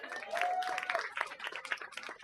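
A crowd at a First Nations crowdfunding event applauding, dense overlapping claps at steady volume with a faint voice mixed in.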